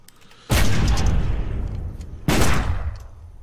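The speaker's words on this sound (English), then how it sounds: "Let me play that back. I can make those gunshots pop." Movie gunshot sound effects from a thriller: two loud, booming blasts, each followed by a long echoing decay, close and alone with no talk.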